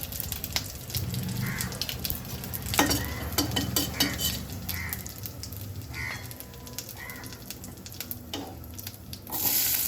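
Curry leaves sizzle in a pan with salt added, a crackling fry broken by repeated spatula scrapes and clinks against the pan, close and moderately loud.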